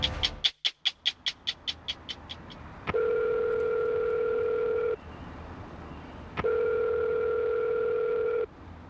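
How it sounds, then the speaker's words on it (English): Before an incoming call from a correctional facility, a quick run of descending telephone beeps gives way to two long, steady dual-pitch tones separated by a pause of line hiss. "You are about to receive a phone call from the correctional facility."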